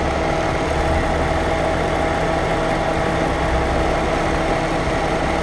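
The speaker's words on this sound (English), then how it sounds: "Let's look at the engine. The V6 lump." A Ford Mustang convertible's 300-horsepower V6 engine idling steadily nearby, a constant low rumble and hum with no variation in revs.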